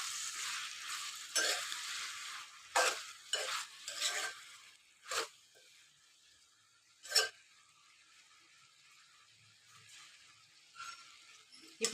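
Tomatoes being stirred into frying potato and ivy gourd curry, several short scraping spoon strokes against the pan with quiet gaps between, close and fairly soft.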